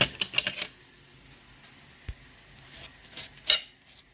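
Sharp, crisp crunches of yeast-dough onion flatbreads being bitten, a quick burst at the start and more around the middle and end, close and dry with no talking.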